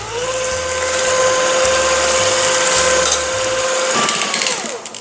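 Electric hand mixer whipping egg whites to soft peaks, a steady high motor whine with beaters churning continuously, then winding down near the end.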